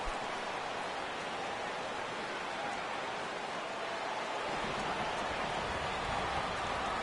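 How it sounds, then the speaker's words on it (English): Steady rain falling over an outdoor baseball stadium at game time, a dense even hiss of drops that thickens slightly toward the end, with no voices. "The rain, as we've mentioned, coming down fairly steadily here at game time"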